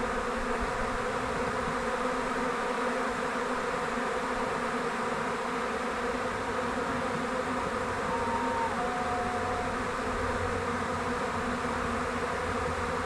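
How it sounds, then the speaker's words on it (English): Steady, dense buzzing of a honeybee swarm entering a nucleus hive, continuous and fairly loud throughout with no pauses or voices. "Where are you going, little bees?"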